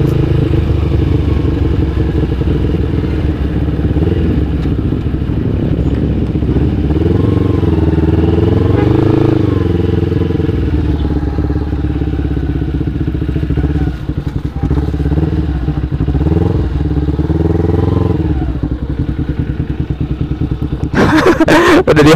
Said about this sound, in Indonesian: semoga gua bisa kebeli ya motor 2 silinder karena cukup enak sekali didengar suaranya gitu guys